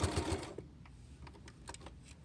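A home sewing machine backstitches across a small fabric glasses case, giving a short burst of rapid close stitching that gives way to faint, scattered mechanical ticks.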